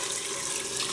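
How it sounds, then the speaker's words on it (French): Chicken broth, about 500 ml, pouring into a cooking pot in a steady, even splashing stream, close and alone. "Donc là, je mets mon bouillon."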